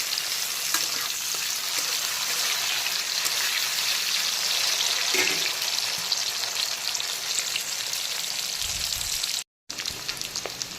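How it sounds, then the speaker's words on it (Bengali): Cashews and raisins sizzle as they fry in the oil left from frying fish heads and potatoes, a dense, steady crackle that runs close and loud throughout, with a brief break near the end. "কাজু আর কিশমিশটাকেও হালকা করে ভেজে নেব।"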